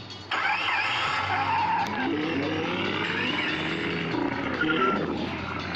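Tires skid loudly in a sustained squeal with engine roar as a car crashes in the Los Angeles Crimes video game, continuous and close throughout.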